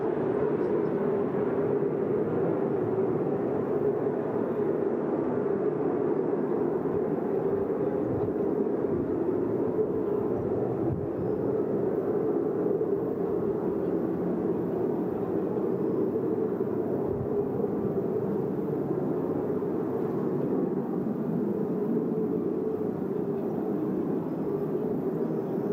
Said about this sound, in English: a nice close-up look now with the gear down of the A4 Skyhawk. And listen to it, tail hook down as well,